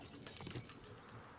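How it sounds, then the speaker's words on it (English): A pane of glass shatters in the survival game 7 Days to Die: a sharp, bright crash near the start, then scattered tinkling fragments settling quickly into quiet. "let's break some glass"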